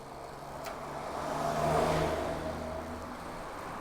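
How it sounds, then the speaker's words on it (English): Cars pass on a road in Kyoto, one swelling closer around the middle and fading away, a steady mid-level engine whoosh over a continuous traffic hum. "Seems like most cars are going this way though."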